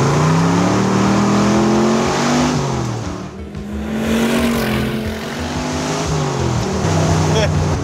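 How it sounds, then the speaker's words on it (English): A 1967 Chevrolet Corvette L71 435hp V8 roars past on a road, its engine note rising and falling as it is feathered through the flyby, loud and close. "let's get one flyby on this road."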